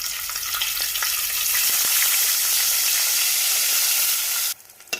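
Dried fish frying in hot oil for a curry, a steady close crackling sizzle that runs unbroken for several seconds before cutting off abruptly.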